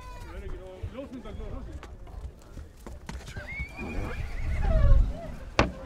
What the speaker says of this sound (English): I think there are horses coming into this enclosure.